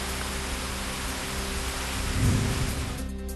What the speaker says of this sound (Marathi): नांदेड जिल्ह्यातील मुदखेड आणि कंधार तालुक्याला आता वादळी वाऱ्यासह अवकाळी पावसानं चांगलं झोडपून काढले